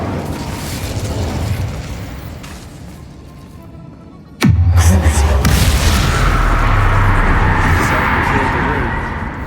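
An Incendio fire spell from the Hogwarts Legacy video game bursts with a sharp sudden crack midway, followed by a sustained roaring whoosh of flame that holds loud to the end over a murky background.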